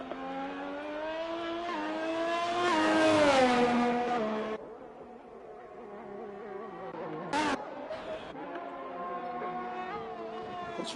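A race car in a racing game at the Austria round accelerates out of the final turn, its engine note climbing through rising revs, easing off, then pulling again with a brief upshift blip.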